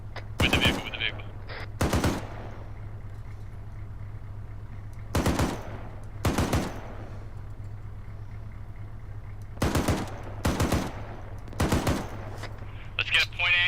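Bursts of machine gun fire in a military shooter game, spaced several seconds apart over a steady low vehicle engine hum, each burst a loud rapid string of rounds.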